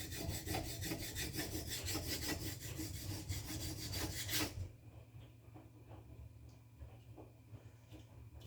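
A knife blade scrapes steadily against a sharpener in rapid repeated strokes for about four seconds, then stops, leaving a faint hum with occasional light taps.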